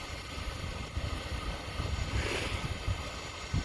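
A Daikin rooftop HVAC unit's inducer motor runs outdoors on a roof before burner ignition, making a steady broadband whoosh and rumble mixed with wind buffeting, with no talking.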